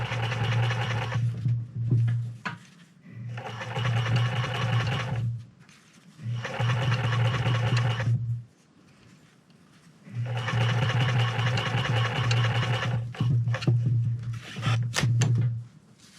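A sewing machine stitching a seam on a fur bomber hat, running in several steady bursts of rapid mechanical whirring separated by short pauses, close and loud with handling rustles between runs.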